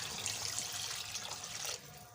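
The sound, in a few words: pouring water into malai kofta gravy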